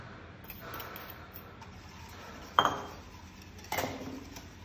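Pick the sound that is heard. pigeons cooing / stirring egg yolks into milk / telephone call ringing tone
stirring egg yolks into milk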